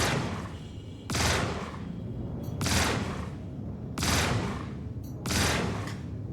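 Spaceship weapons blasting in the space game Star Citizen, four loud broadband bursts of sustained fire at roughly one-second spacing over a steady engine hum, with no talk.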